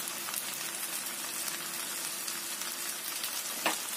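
Spring onions go into a wok of frying kwetiau noodles, giving a soft, even sizzle with faint crackles and one small clink near the end.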